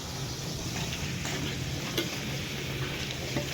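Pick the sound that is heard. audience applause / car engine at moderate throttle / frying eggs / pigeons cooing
frying eggs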